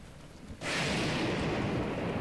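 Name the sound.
lightning strike in the video game Zelda: Breath of the Wild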